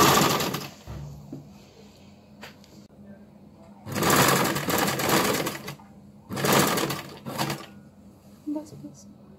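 Sewing machine stitching a shirt along buckram, in bursts of fast, loud mechanical whirring separated by quieter pauses, close by, with faint speech in between.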